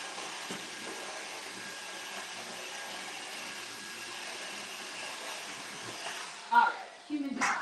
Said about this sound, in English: just gonna do a quick suction so that the inside of my vacuum smells like cumin